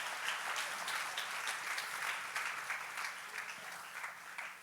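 Steady applause from a church congregation, dense clapping that holds for several seconds and slowly tapers slightly.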